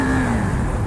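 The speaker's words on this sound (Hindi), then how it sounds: "और क्या ही प्यारा चल रहा है बाइक यार भाई।" A KTM RC 390 motorcycle engine running steadily with a continuous drone and a slight drop in pitch, loud and close, with no talk over it.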